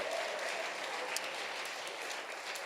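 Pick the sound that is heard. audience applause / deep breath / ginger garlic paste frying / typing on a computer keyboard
audience applause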